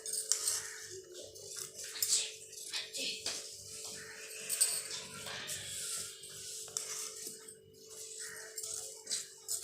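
Scissors cutting blouse fabric: a series of light metallic snips and clicks near at hand, irregular and fairly quiet, with soft rustling of cloth and faint voice in the background.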